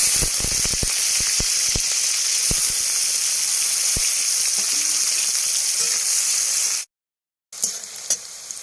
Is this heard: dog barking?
no